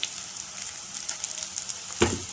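Ginger and garlic paste fries in a hot pan, giving a close, steady sizzle with light crackles and a brief louder clatter near the end, no voices.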